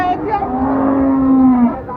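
A cow lets out a long, close, loud moo rising and holding before trailing off, with faint background noise from the Ambari cattle market in Dinajpur.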